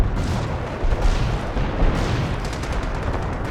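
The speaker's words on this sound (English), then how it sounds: "Another artillery barrage." An artillery barrage in the World War II strategy game Company of Heroes, a continuous, loud roar of overlapping deep booms and rumbling blasts that swells at intervals.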